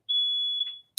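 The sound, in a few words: fire alarm beeping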